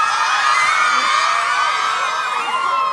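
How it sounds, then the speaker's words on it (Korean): A large crowd at a Seoul university campus cheers and whoops continuously, with children's shouts and yells blending into a dense, loud roar that holds steady throughout. "사람들의 환호 소리가 되게 들리는 것 같은데"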